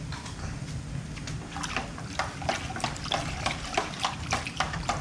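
Plaster of Paris mixed with water is stirred by hand, giving a continuous wet sloshing with repeated soft, rhythmic scraping strokes, close and moderately quiet.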